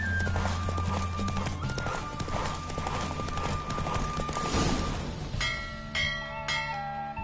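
Hoofbeats of Roach the horse racing at a gallop in The Witcher 3, a steady rapid clip-clop under a droning musical score, with bell-like chimes ringing out near the end as the race finishes.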